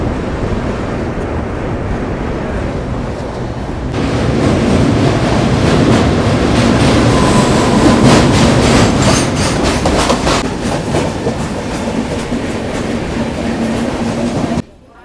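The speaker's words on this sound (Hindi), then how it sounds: "हमारी ट्रेन चल रही है पुल के ऊपर" Kashi Patna Jan Shatabdi express crossing the Ganga river bridge in thick fog, heard from aboard as a loud, steady rumble with rapid rhythmic clatter of wheels on the bridge, cutting off sharply at the end.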